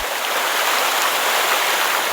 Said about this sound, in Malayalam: ഇവിടെ നിന്നാണ് വെള്ളച്ചാട്ടം ആരംഭിക്കുന്നത്